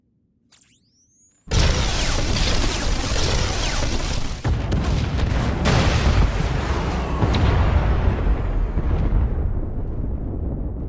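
Junctions blown up in the Star Wars: The Old Republic game, with a short whistling cue followed by a long, loud roar of layered explosions and rumbling blasts that gradually fade.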